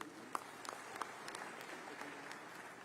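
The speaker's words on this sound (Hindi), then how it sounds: "ताली बजा करके एक बार स्वागत करें" Audience at a Chhattisgarh state solar subsidy event applauding to welcome the chief minister; steady, faint, distant clapping with a few sharper claps near the start.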